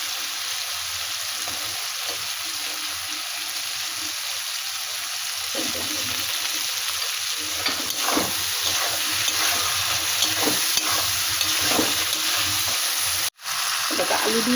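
Tomatoes sizzle and fry steadily in a pan, the hiss swelling partway through as a spatula stirs with repeated scraping taps, before a brief sudden dropout near the end.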